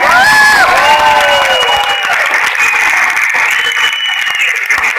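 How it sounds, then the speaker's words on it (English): Loud applause and cheering fill a big hall at a Vestige Success Summit, with sustained clapping and a few high shouts and whistles rising over the crowd in the opening seconds before settling into steady clapping. "Big round of applause for everyone."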